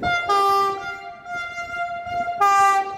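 A train sounds a long, loud harmonic horn at a level crossing on Jankego Street in Katowice, blaring in two drawn-out blasts over the rumble of rolling rail cars.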